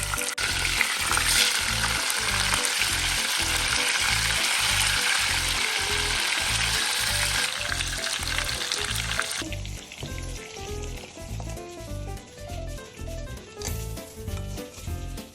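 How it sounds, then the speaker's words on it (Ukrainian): Pork ribs sizzling loudly in hot lard, a dense continuous crackle with rhythmic stirring or scraping underneath, easing slightly toward the end. "Смажуємо до румяної, коринки з двох сторін."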